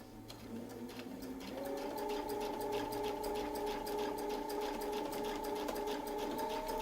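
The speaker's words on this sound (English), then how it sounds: "and we can sew back to the center" A sewing machine stitches along a Westalee Tecoma quilting template, its steady whirring hum and rapid needle chatter building up and then holding at an even, close level throughout with no voices.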